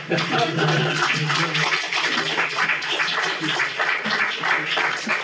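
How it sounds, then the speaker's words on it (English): An audience at a Constitution Day lecture claps in a continuous, even patter of many hands, moderately loud and unbroken for several seconds. "You can clap now."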